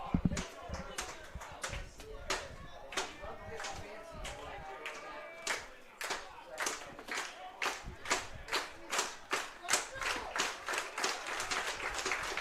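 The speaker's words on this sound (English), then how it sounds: "Crowd still loud for the Ponies." A baseball crowd at a college summer-league game claps and cheers, with scattered rhythmic clapping growing into steady, evenly spaced claps under crowd noise and a commentator's voice.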